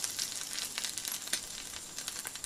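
Chopped garlic fries in about three spoons of mustard oil in a wok with mustard seeds and a bay leaf, giving a steady, fairly quiet sizzle with small crackling pops.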